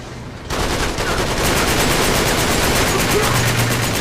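Continuous automatic gunfire from the video game Uncharted 3: Drake's Deception, starting abruptly after a brief quiet moment and holding as a loud, dense, unbroken burst to the end.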